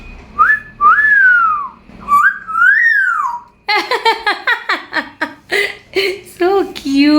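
An African grey parrot whistles several rising and falling tones close up, then breaks into rapid chirpy babbling and squeaky sounds, loud and near.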